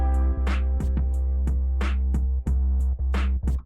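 A dry drum loop without reverb, mixed in Soundtrap: a steady, close kick pattern with snappy snare hits and short bright cymbal or hat splashes over a constant low bass tone, loud and upfront.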